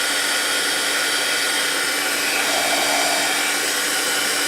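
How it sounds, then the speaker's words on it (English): A heat embossing tool blows hot air in a continuous, fairly loud whirring hiss with a faint fan hum underneath, steady for several seconds with no talk. "I'm going to heat emboss this real quickly."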